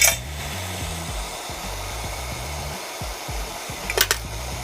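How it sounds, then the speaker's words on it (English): A propane torch with a roughly one-inch inner blue flame roars steadily while heating brass cartridge cases for annealing, with a couple of brief metallic clinks near the end. "Get approximately that 1 inch inner blue flame. Grab a couple pieces of test brass."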